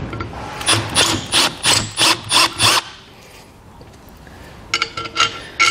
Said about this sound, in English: So I'm gonna take a drill bit.